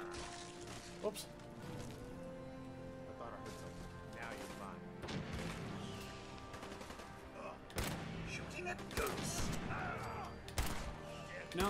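Rapid gunfire in Fallout 4 as shots are fired at eggs, a dense run of bursts and booms layered over game music and ambience, with voices talking throughout.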